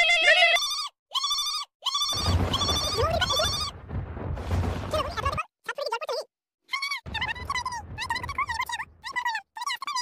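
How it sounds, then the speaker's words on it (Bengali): A phone rings late at night, its melodic ringtone coming in repeated tonal bursts with short silent gaps. Around the middle, a stretch of noisy clatter sounds over the tones. "এত রাত আবার কে ফোন করছে?"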